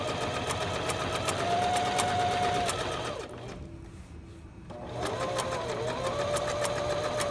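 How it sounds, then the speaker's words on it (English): A sewing machine stitches fabric for a pillowcase backpack, running in a steady, close whirring stream that stops for about a second midway and then resumes at the same pace. "lower the presser foot, and now I'm going to sew this way"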